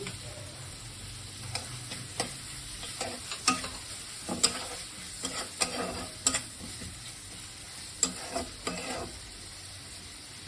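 Tomato and onion fry in a pan with a steady sizzle while a spoon scrapes and taps against the metal in irregular, fairly close strokes, with no talk.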